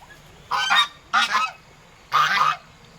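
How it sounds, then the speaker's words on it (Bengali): Three loud, harsh honks sound close by, each about a third of a second, spaced unevenly with quiet gaps between them. "হাঁস, কত হাঁস এখানে, কি সুন্দর লাগছে দেখতে।"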